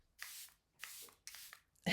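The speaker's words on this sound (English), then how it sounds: "melt everything together with my Charlotte Tilbury setting spray." Charlotte Tilbury makeup setting spray misted in three short hissing bursts, close and soft, each lasting about a quarter second with brief gaps between.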